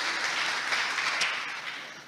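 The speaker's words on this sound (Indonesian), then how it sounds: "Tepuk tangan dulu yang meriah bagi Tuhan." Church congregation applauding during a Christmas sermon, a steady dense wash of many hands clapping that fades slightly toward the end.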